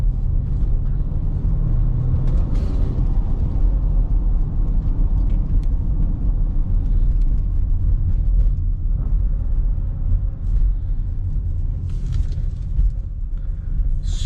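A 2024 Porsche Cayenne S with a V8 engine driving, heard from inside the cabin as a steady, low, loud rumble that holds with little change throughout.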